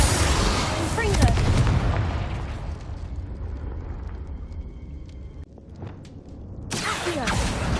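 Spell explosions from Bombarda and Confringo cast in Hogwarts Legacy, a loud booming blast that decays into rumbling debris, with a second burst near the end, under game voice lines.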